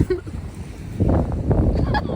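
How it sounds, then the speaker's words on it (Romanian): Strong wind outdoors in England buffets the microphone in low, rumbling gusts that build louder in the second half, with faint splashing in the background. "Și aici vântul puternic."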